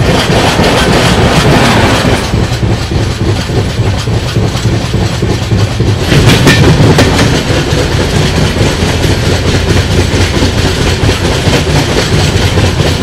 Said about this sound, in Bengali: ট্রেন ছেড়ে দিল মেচেদা থেকে।